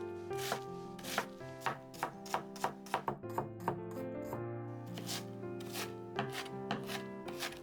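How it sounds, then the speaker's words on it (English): Knife chopping food finely on a cutting board while preparing Japanese potato croquettes (korokke), a steady series of crisp close taps with brief pauses, some quicker runs, no talking. "I make cuts horizontally from the bottom. Nice, I chop it finely."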